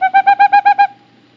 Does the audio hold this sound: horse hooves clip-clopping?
no